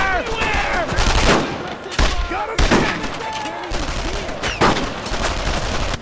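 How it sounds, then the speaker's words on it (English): Gunfire in the World War II shooter Brothers in Arms: loud, close bursts of rifle and machine-gun shots in rapid clusters with short pauses, while a voice speaks over them. "Each one is recognizable from the sound design of each weapon alone."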